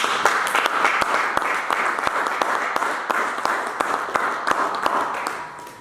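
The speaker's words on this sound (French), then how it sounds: "Acclame Jésus, acclame le Seigneur." A church congregation applauds to acclaim Jesus, a steady wash of many hands clapping close and loud, with sharper individual claps standing out, continuing for several seconds before easing off at the end.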